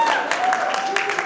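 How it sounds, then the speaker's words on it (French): Wedding party guests applaud in a steady wash of clapping with voices mixed in, continuing throughout the short stretch. "Applaudissez pour elle."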